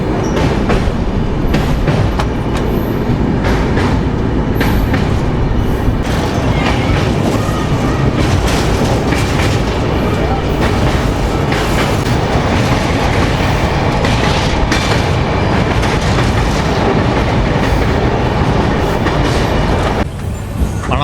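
Tirupati–Puri Express running on LHB coaches across the Penna river bridge after leaving Nellore, with a loud, continuous rumble and steady clickety-clack of wheels on the rails throughout.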